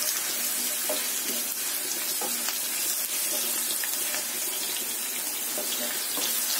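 Oil tempering sizzles and crackles in a pan for lemon vermicelli pulihora, a steady close frying hiss with occasional sharper pops and light clinks, and no voices.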